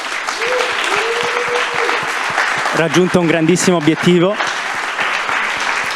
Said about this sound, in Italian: un grande applauso per Cava